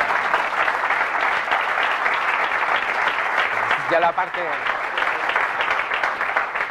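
An audience at a morning conference talk applauds with dense, sustained clapping that fills the room, while a speaker's voice briefly comes through over it.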